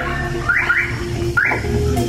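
An aftermarket alarm fitted to a Nissan NV350 van sounds close by with a few short rising chirps over a low background hum.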